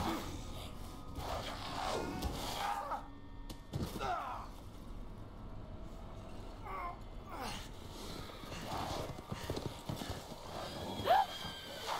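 In the video game Resident Evil Village, horses whinny several times over irregular hoof clip-clops and a busy in-game background, with sounds coming and going across the scene.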